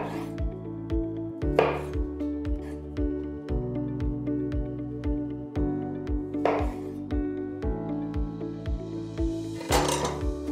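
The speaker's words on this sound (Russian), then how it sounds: "Я произвольно нарезаю и кладу в кастрюльку." A knife chops fresh fleshy tomatoes on a board for a pasta alla norma sauce in a home kitchen. Crisp, evenly spaced strokes land about once per second, close and clear, with occasional louder clattering knocks.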